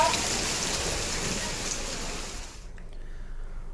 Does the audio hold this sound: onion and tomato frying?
no